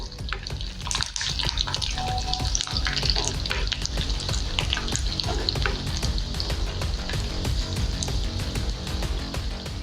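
A handful of garlic sautés in hot oil with mustard seeds and curry leaves, a loud steady sizzle and crackle with scattered pops and the scrape of stirring throughout.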